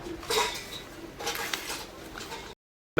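Chopped vegetables and gravy stirred together in a bowl for garlic fritters, a run of scraping, clattering utensil sounds in two busy bursts before a sudden cut to silence.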